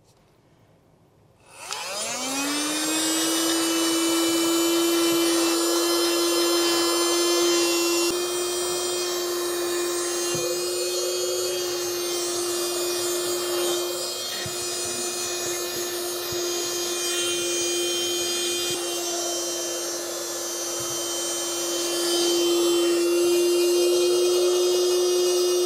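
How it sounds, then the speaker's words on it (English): A vacuum cleaner fitted with a smooth nozzle starts up after a brief quiet moment and then drones steadily and close by with a high whine while cleaning the headliner of a Jaguar XK8 in a garage, with light rubbing and no speech. "vacuum, which I can use to clean up the headliner a little bit without dragging it around too much"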